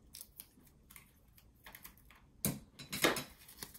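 Decorative glitter paper being trimmed down for a mini flipbook, soft scattered snips and rustles ending in two louder, crisp cuts near the end, close and quiet.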